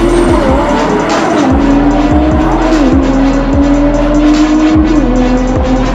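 A twin-turbo Lamborghini Huracan accelerates hard down a drag strip, a loud close engine roar that climbs through rapid gear changes, each shift cutting the pitch before it rises again, with no talking.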